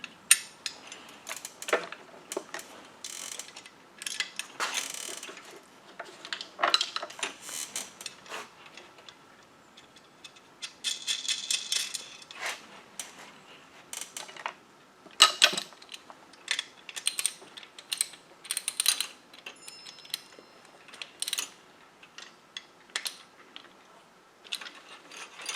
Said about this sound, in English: then one of these nice nylon nuts here, and we'll just tighten those down